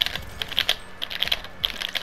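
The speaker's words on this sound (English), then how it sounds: "Bro, your controller's gonna sound like this though." Game controller buttons click and tap in quick, irregular bursts, close and fairly quiet, a dry plastic clatter with no talking.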